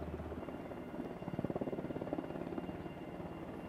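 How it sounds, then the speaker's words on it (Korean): A US military training helicopter flies back and forth over a fishing spot, its rotor chopping as a steady, moderately distant thudding drone that swells in the middle and then eases off. "헬기가 지금 왔다 갔다 하고 그러는데 계속."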